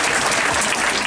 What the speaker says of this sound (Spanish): yo sí quisiera que le diéramos un aplauso bien grande